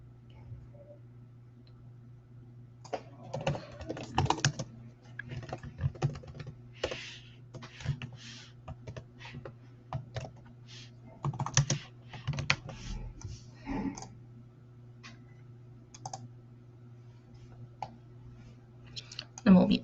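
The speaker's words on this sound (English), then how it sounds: "we'll mute me so you can't hear me typing" Typing on a computer keyboard comes in quiet, irregular bursts of soft clicks over a low steady hum in a calm indoor room.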